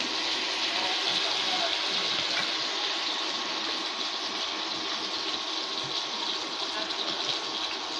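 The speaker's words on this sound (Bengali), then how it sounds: "অল্প করে একটু পানি দিতেছি।" Water pours in a steady, fairly faint rushing stream into a cooking pan of spiced fish roe and onion, the gush continuing evenly for several seconds.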